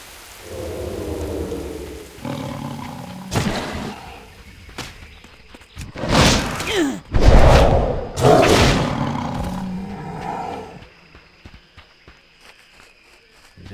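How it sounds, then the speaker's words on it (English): Video game thunder rumbles and cracks in several heavy rolls over steady rain, building to loud booms midway before fading back to the patter. "It's thundering."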